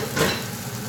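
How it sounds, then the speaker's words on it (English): Chopped onions hit a hot pan for braised five spice chicken, giving a brief soft sizzle that swells and settles into a steady low frying hiss. "I'm going to pour the onion here and just fry them until it's fragrant."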